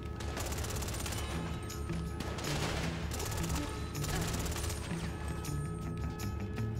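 Dense, continuous gunfire from GTA 5 on an aircraft carrier, with overlapping shots and bursts that blend into a steady roar at constant loudness throughout.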